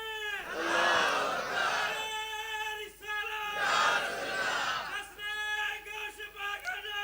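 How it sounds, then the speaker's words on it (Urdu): A large religious gathering chants slogans in the name of Ghaus Pak, with loud massed voices rising in two long surges and a leader's call between, echoing as in a big hall. "درمیان سے کوئی ایک شخص کھڑے ہو کے لگائے غوث پاک کے نام کے نعرے"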